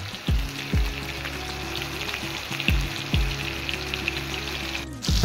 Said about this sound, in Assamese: এইফালে মই দেখিছেনে হাই ফ্লেমত পূৰা ভাজি আছোঁ মাছ।